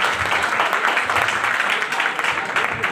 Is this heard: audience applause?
yes